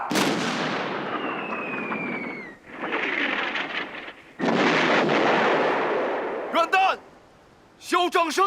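Warship main guns firing during a naval battle in a war film, long roaring blasts that swell and sustain, one after another, loud and close, followed by sharp ringing tonal bursts near the end.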